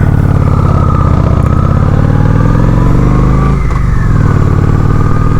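Honda Shadow 750 ACE motorcycle being ridden, its engine note loud and steady throughout with a brief shift in pitch near the end, heard close with continuous wind and road roar.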